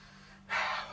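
A single sharp, close sniff taken at a glass of Beck's red ale, a short breathy inhale in an otherwise quiet room.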